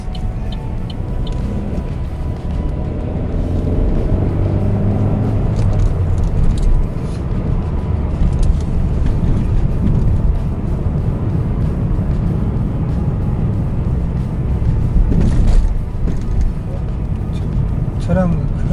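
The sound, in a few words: heavy road traffic passing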